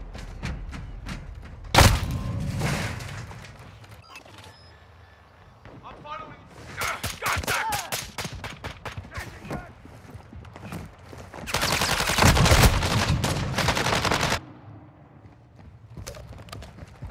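A shooter video game battle brings bursts of rapid automatic gunfire, including one sustained loud volley, among scattered single shots, thuds and shouted voices, with fire sounding close and intense.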